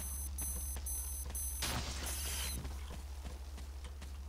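In Metro Exodus, a warning device beeps in a fast, repetitive pattern, close and steady, with a brief burst of static noise in the middle and other game sounds underneath; no one talks.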